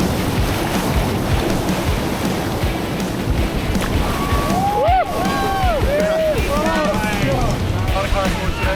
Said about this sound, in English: The intermediate rafting trip is taking us through class 3 and 4 rapids.